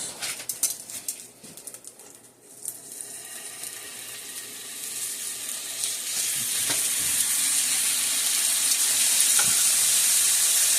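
Pre-washed turkey wings searing in a pan, an irregular crackle and spatter at first that settles into a steady, rising hiss of hot fat, close and loud, with no talking.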